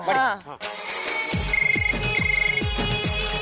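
A landline telephone rings in a domestic scene, a repeating electronic ring pattern of several short bursts following a brief spoken voice at the start.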